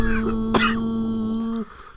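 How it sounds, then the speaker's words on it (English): A single short cough or throat-clear bursts out about halfway through, over a steady sustained tone in the background. "Was that me a second ago coughing?"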